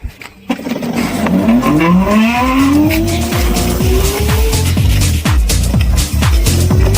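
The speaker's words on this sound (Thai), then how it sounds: "เดี๋ยวเรามาทดสอบมินิโกคาร์กันนะครับ" A fully electric mini go-kart, a modified build, makes a test run with a rising motor whine that climbs in pitch, along with repeated tire squeals and skidding chirps. The sound is loud and close throughout.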